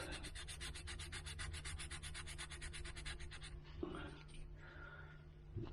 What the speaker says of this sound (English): I'm going to take the 1500 and just give that a couple of slight rubs